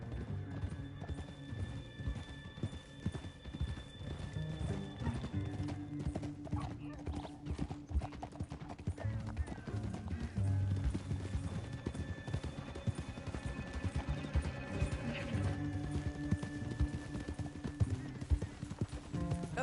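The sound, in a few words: horses' hooves clip-clopping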